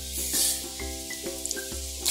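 Mustard seeds dropped into hot oil for tempering poha chivda give a close, continuous sizzle with brief popping spikes near the end, with no voices.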